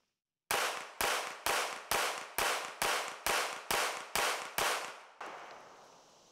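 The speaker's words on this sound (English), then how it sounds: "Let's get to shooting, see how it feels." A VP P30L pistol with a built-in Streamlight compensator fires ten sharp shots at a steady, rapid pace, each crack loud and close with a short decaying echo, followed by a softer trailing noise.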